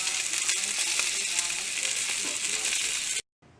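Kielbasa sausage frying in a pan gives a steady, close, broadband sizzle that holds evenly for about three seconds, then cuts off abruptly.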